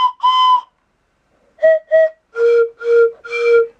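A homemade PVC pipe whistle with an end cap gets test-blown in several short, clear, loud tones: a longer blast, then two quick toots, then three lower, sustained notes, each standing alone with silence between.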